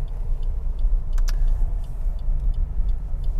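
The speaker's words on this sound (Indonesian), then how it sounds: "Terus mesinnya Suzuki XL7 ini halus, di dalam itu nggak terdengaran suara deruan mesinnya ketika kita bawa santai." Inside a Suzuki XL7 cruising gently, a low steady road and engine rumble fills the cabin quietly, with soft regular ticking, likely the turn signal, and a brief clink near the middle.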